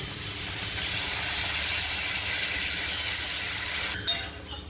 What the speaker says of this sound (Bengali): এবার আমি এতে পরিমাণ মতন জল দিয়ে দিচ্ছি।